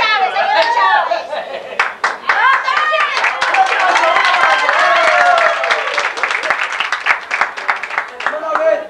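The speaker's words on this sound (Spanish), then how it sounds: "¡Otro aplauso para Chávez!" Lively applause and rhythmic hand clapping from guests at a church Valentine's Day banquet, close and loud, mixed with excited voices and chatter throughout.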